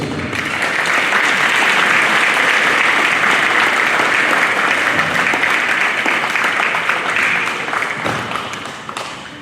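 Audience applauding top 10% seniors at a senior awards ceremony, sustained loud clapping from a large crowd that holds steady before tapering off at the end.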